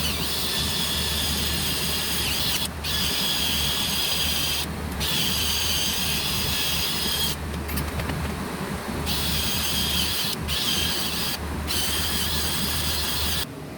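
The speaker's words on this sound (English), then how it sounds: "I'm gonna use this drill with a buffing pad on it" A power drill with a buffing pad runs continuously, removing rust from a mini bike, with a gritty buffing and grinding noise, broken briefly by a few short pauses, loud and close throughout.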